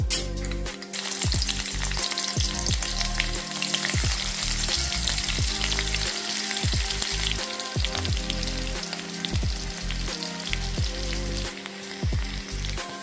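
Onions frying in oil in a pan on a stove, with a dense continuous crackling sizzle and a regular series of stirring scrapes, close and loud with no talk.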